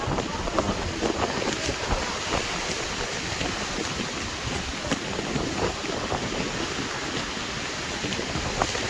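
Wind blows steadily outdoors near a mountain, a broad continuous rush buffeting the microphone at moderate loudness with no clear gaps.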